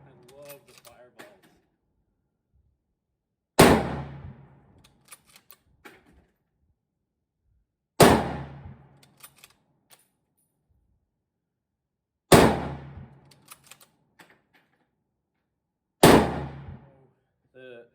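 Four loud, sharp rifle shots from Mosin Nagant rifles, an M91/30 and an M44, ring out at a shooting range about four seconds apart, each with a decaying echo and quiet shuffling in between.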